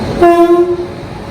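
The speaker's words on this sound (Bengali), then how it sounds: "ঘড়িতে সময় তিনটে পঞ্চাশ পুরো রাইট টাইমে ট্রেন চলে এসেছে" A local train pulls into Sodepur station near Kolkata and sounds a loud, steady horn blast of about half a second, with a faint rumble beneath and no voices.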